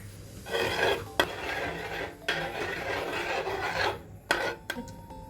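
Spoon scraping and stirring sugar in a pan as it caramelizes for bread pudding, a steady raspy rubbing in long strokes broken by a few sharp clinks against the metal, close and fairly loud with no voices.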